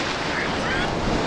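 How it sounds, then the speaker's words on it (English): Big waves on open water near South Manitou Island, a loud, continuous rushing wash mixed with heavy wind buffeting, with no talk. "We got some big waves out here"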